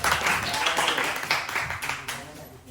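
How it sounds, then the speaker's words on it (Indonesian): Schoolchildren in a classroom clap in a dense, lively burst for classmates receiving ranking prizes. The sound is close and steady, then thins out toward the end, with a voice speaking over it. "Kasih tepuk tangan yang meriah."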